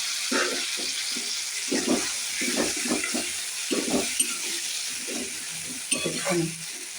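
Tomato, ginger and ground spices frying in a pan with softened potatoes for a fish curry, a soft sizzle broken by repeated scraping stirs of a spoon, close by.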